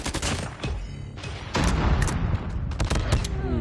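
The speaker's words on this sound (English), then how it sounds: "Someone is shooting at me." Rapid, dense bursts of rifle fire from a Holger rifle in a Call of Duty ranked match crack close and loud in overlapping volleys, with heavier booms breaking in midway.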